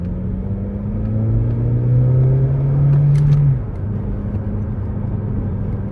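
Scion iM fitted with a catback exhaust accelerating, heard from inside the car, a deep droning engine note that climbs in pitch for a few seconds, then drops back to a low rumble.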